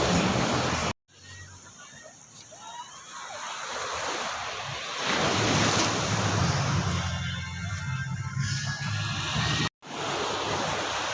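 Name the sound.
ocean waves on beach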